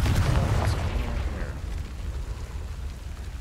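Confringo fire spell explosion in the Hogwarts Legacy video game, a loud booming blast up front that fades into a rumbling decay.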